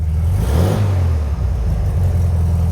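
A 1976 VW Super Beetle with running issues idles and revs close by, a loud low engine rumble that swells and eases, steady to the end with no voices.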